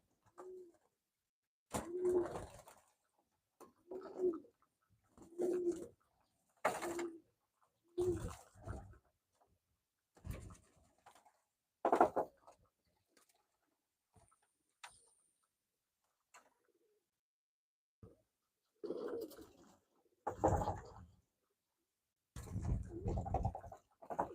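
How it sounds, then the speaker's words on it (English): Racing pigeons in a loft coo in repeated low bursts separated by pauses, with occasional rustling and tapping as the birds move against a screen, fairly faint and close. "Birds on the old bird team, they want a bath. They're trying to get through the screen to get to the bath."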